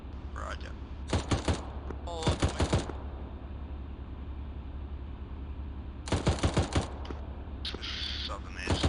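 Bursts of automatic gunfire in ArmA 3 shooting out a vehicle's tires, several rapid clusters of sharp shots over a steady low rumble, with short pauses between volleys.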